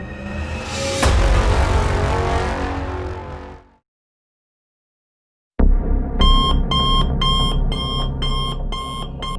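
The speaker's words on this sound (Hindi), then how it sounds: "अलार्म क्लॉक को बंद कर दिया" A loud rushing noise fades into silence, then an alarm clock starts ringing, repeating sharp electronic beeps in a fast steady rhythm, close and insistent.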